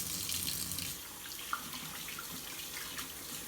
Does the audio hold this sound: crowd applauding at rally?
no